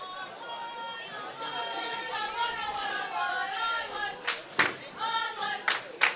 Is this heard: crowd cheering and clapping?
yes